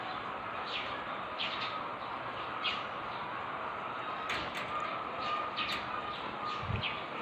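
Breeding pigeons in a loft, nesting with eggs and hatchlings, give soft low coos and a few faint chirps over a steady background hiss.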